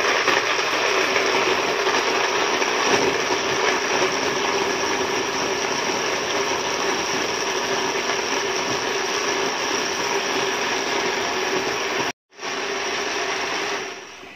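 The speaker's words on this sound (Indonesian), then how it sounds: "Lepas itu kita ulang lagi blender" A blender grinds chili padi into sambal, a loud steady motor whir with a rough grinding texture that runs continuously, stops for a split second, then resumes.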